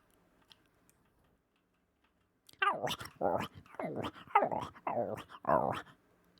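A person imitates a dog during GTA roleplay, giving a close series of barks, yips and growls in rapid bursts after a quiet start.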